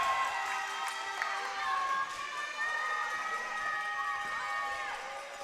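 A basketball crowd at a state junior high semi-final cheering and shouting, a bright, sustained roar of voices with whistles and high yells throughout.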